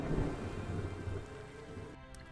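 A video-game storm over the Norwegian Sea in a whaling game: steady heavy rain hissing with a deep rumbling undertone of thunder, continuous and loud, with no voices.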